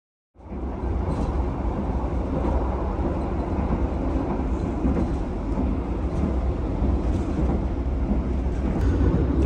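A Brawijaya Imperial passenger train on the Jakarta–Malang route rolls along steadily with a continuous low rumble and rattling, close and loud throughout, with no talking.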